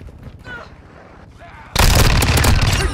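Gunfire in a multiplayer shooter video game on the Dome map bursts in suddenly after a quieter stretch, with loud, close, rapid shots filling the second half.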